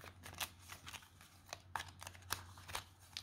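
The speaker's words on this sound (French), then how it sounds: "Je mélange pour que l'ordre que j'avais mis sur la table ne soit plus le même" Playing cards riffled and shuffled by hand on a table, a quick series of soft crisp ruffling bursts, close and quiet, with no one talking.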